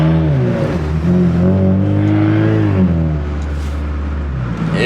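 An old Ford Mustang engine revs close by, a loud, steady low rumble that swells and eases over several seconds with no speech.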